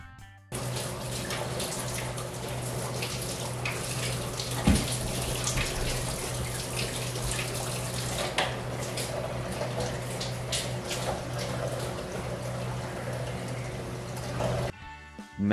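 Water steadily runs and splashes from an untightened union on reef tank closed-loop plumbing, a continuous hissing trickle that holds at even loudness throughout.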